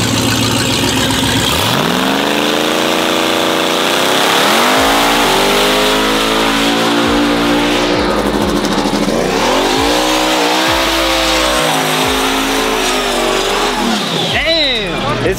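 Several car engines rev hard and repeatedly before a showdown race, with loud rising and falling throttle sweeps that run continuously while people talk excitedly over them.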